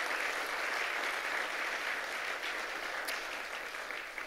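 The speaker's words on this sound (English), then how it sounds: "Let's give them another great big round of applause" Audience at a college anniversary leadership awards dinner applauding, steady dense clapping from a large room heard at moderate distance, fading slightly toward the end.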